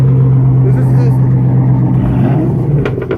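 An American muscle car at a cars and coffee meet gives off a loud, close exhaust rumble with a deep steady drone that fades as it pulls away, with voices talking over it.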